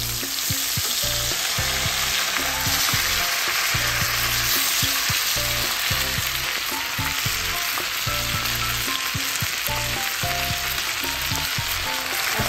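A whole fish frying in a pan of hot oil, sizzling loudly and steadily with crackling spatter, while it is turned over partway through.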